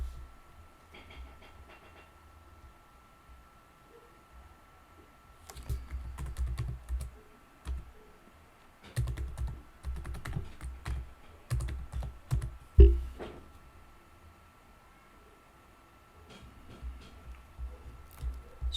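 Typing on a computer keyboard while entering a server address: scattered bursts of close key clicks with short quiet gaps, louder flurries in the middle.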